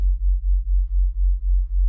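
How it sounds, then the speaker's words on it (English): A synthesized wobble bass built from a saw wave with an LFO on fine tuning in the Vital synth throbs deep and loud, pulsing about eight times in a steady, slightly slowing wobble. "I'm able to get the wobble to start fast and then slow down."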